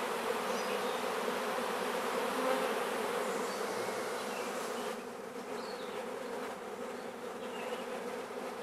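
A honeybee swarm drones in a steady, dense buzz close by, holding constant for the full stretch and dipping slightly in loudness partway through, with no voices.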